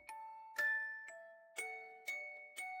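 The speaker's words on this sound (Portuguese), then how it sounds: "A gotinha cai na flor vermelha. Parece um sino." A raindrop falling on a tall red flower makes a bell-like chime in a children's rain lullaby. Five clear, ringing dings sound about half a second apart, each one sustaining, alone in quiet.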